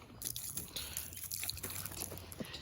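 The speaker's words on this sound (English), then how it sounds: "you can just pour more diesel on this." Diesel poured onto a small campfire gives a steady liquid trickle and dripping with soft crackle, close and fairly quiet, running the whole time alone.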